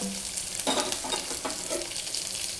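Chopped onion sizzles and crackles in a hot pan, a steady close frying hiss with faint stirring scrapes; no speech.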